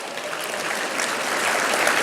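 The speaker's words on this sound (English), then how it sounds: "please give yourselves a round of applause" Conference audience at an industry awards session breaking into applause, a steady wash of many hands clapping that swells slightly toward the end, with no one speaking over it.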